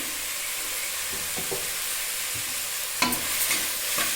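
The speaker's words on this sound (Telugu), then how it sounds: "ఇలా ఒకసారి మిక్స్ చేసేయండి" Tomatoes with turmeric being stirred in a pan for tomato mint chutney, a steady soft sizzle with a few scraping knocks of the spoon against the pan, close by and with no talk.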